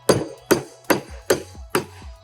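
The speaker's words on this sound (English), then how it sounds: "It's a matter of tapping it into position with a rubber mallet or a plastic hammer" A rubber mallet taps a motor bearing into its housing during a XAG P100 Pro agricultural drone motor teardown: five sharp, evenly spaced knocks, close and clear, with no talk.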